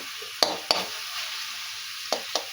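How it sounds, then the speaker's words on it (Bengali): Leafy greens being stir-fried in a pan give a soft continuous sizzle with four sharp scraping knocks of a spatula, close by. "এই শাক ভাজা হয়ে এসছে।"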